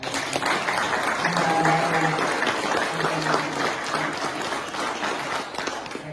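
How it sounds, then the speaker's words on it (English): An audience applauds at a military recognition ceremony, a dense, even wash of clapping hands lasting about six seconds at fairly close range, with a few scattered voices beneath it. "One more round of applause."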